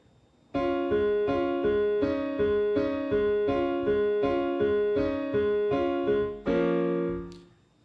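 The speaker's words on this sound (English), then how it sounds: "Now let me play that same thing, but without using the foot pedal." Piano chords are played without the sustain pedal in a steady repeated pattern, each one cut off short and dry before the next, ending on a held chord.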